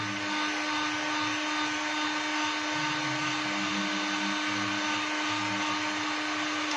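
A hot air gun runs steadily on its low setting, giving a continuous even blowing whoosh with a faint motor hum, moderately close and alone, with no talk.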